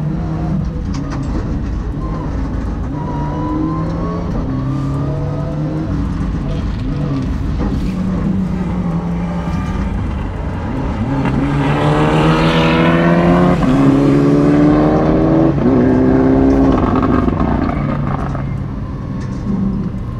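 Rally car engine from a Lancer EVO IX N4 or Lada VFTS, revving hard under acceleration with rising harmonics as it shifts gears without the clutch, loud and continuous while people talk over it inside the car.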